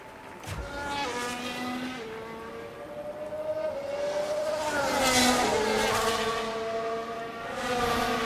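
F1 race car engines whine steadily as a car leaves the pits during a Belgium sprint weekend in F1 Manager 24, with pitch rising and falling through gear changes and a second car's tone overlapping, continuous and fairly loud.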